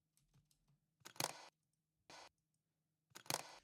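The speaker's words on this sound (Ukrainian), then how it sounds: "Це звук затвору камери" Three short, sharp camera shutter clicks separated by brief silences, crisp and close.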